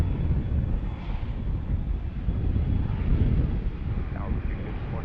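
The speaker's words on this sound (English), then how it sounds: "It's taking off on 15." An airplane taking off from runway 15 at DCA, a steady low engine roar heard from a distance, buffeted by wind noise on the microphone.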